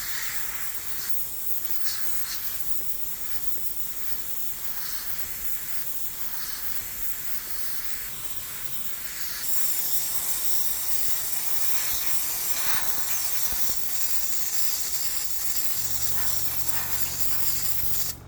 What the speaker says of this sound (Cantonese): 所以需要將船艙噴啲黑油嚟遮光